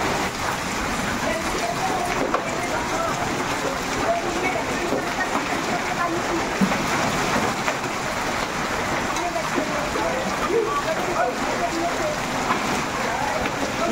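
Steady rain falling after a hailstorm near Roorkee and Laksar in Uttarakhand, a dense, even hiss of drops that runs unbroken and fairly loud throughout, with no clear gaps or lulls.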